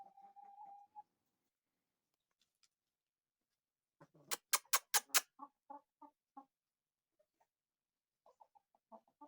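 A Brahma rooster gives a short crow, then a close burst of sharp, rapid clucks followed by softer, scattered clucking in an otherwise quiet setting.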